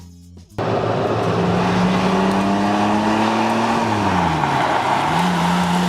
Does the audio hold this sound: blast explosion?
no